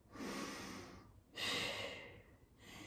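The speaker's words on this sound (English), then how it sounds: "Taking a couple deep breaths here." Slow, deep breathing during a Pilates stretch while lying forehead-down with arms hanging: two long, airy exhalations close to the microphone, separated by a quiet pause, then a third breath beginning, soft and unhurried.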